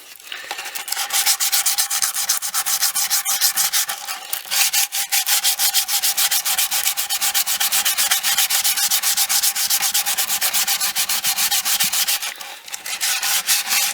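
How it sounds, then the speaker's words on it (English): A razor blade scrapes hardened super glue off the wooden body of a Les Paul style guitar, a loud, close, rhythmic rasping of rapid back-and-forth strokes with only brief pauses. "once it goes hard, razor blade, scrape it off"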